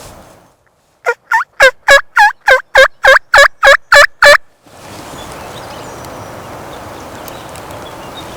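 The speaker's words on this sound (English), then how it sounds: "So you heard him gobble again?" A wild turkey in the Appalachian Mountains gobbles loudly and close in a fast series of about eleven sharp, rhythmic bursts, followed by a steady outdoor rush with no talk.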